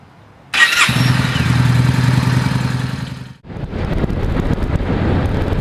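A Yamaha Star XV950 Bolt cruiser motorcycle engine fires up and settles into a loud, steady low throb, cuts off briefly, then runs again amid gusty wind rumble on the microphone.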